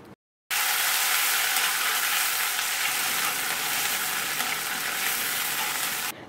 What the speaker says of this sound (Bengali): পেঁয়াজ বাটা নেড়ে চেড়ে লবণের সাথে মিশিয়ে দিলাম।